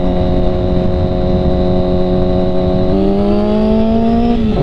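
A motorcycle engine revs loud and close during wheelies, holding a steady drone before pitch shifts and climbs again toward the end.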